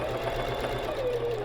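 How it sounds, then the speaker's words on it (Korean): Sewing machine running steadily at speed with stitch length and thread tension set to maximum to gather fabric into pleats, a continuous close whirring hum with no pauses. "노루발 내려놓고 이제 재봉을 하면 됩니다"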